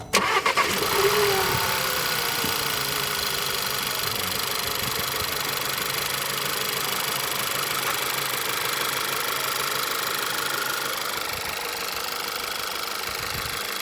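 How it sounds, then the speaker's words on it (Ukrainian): A VW Passat B7 1.8 TSI engine cranks and catches, then settles into a steady, slightly uneven idle rumble that continues for the rest of the clip. "Послухаємо, як працює його двигун."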